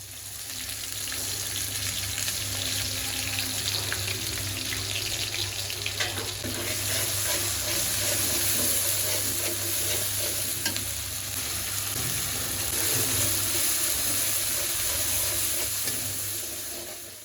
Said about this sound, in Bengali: প্রথমে বোয়াল মাছগুলোকে ভেজে নিয়েছি, তারপর হচ্ছে ফোড়নে দিলাম হচ্ছে জিরে আর রাঁধুনি